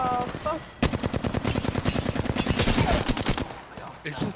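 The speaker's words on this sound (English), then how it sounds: "I'm spotted, taking fire." Rapid automatic gunfire from a video game bursts in after a brief pause and keeps up as a fast, loud, evenly spaced stream of shots for several seconds, then cuts off near the end.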